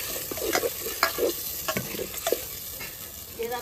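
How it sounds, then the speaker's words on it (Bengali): Duck meat frying with spices in a clay pot makes a close, steady sizzle broken by irregular scraping and stirring bursts throughout, with no one speaking. "মশলা কষানো হয়ে গেছে, মাংসটা দিয়ে দেবো"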